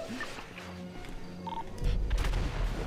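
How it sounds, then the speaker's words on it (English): RPG explosions in the GTA video game, a deep booming low rumble building into heavy blasts in the second half, fairly loud over softer game background sounds. "That sounded like an RPG. That's RPGs coming from up north."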